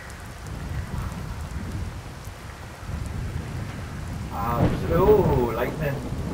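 Steady rain pours in the Sightline video game, with a low rumble of thunder building near the end and a voice briefly speaking over it.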